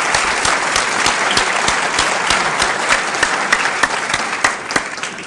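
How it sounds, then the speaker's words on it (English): An audience at an Iowa Eastern Star event applauds steadily and loudly, dense clapping holding for several seconds with a few sharper claps standing out near the end. "I think they deserve special applause too"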